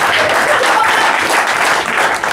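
Guests at a birthday party break into dense, loud, close applause that holds steady for a couple of seconds with no talk over it.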